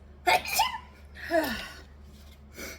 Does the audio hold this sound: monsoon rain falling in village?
no